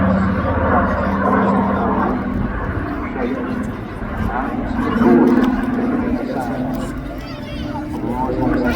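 A late-development Spitfire Mk. XIX flies at the Southport Airshow, its engine a steady, rumbling drone that swells and fades slightly as it passes. A commentator talks over it throughout.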